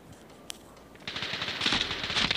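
Rapid gunfire in the mobile shooter Standoff 2, a quick burst of automatic shots after a single sharp click, close and fairly loud, rattling on to the end.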